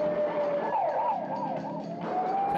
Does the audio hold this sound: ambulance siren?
yes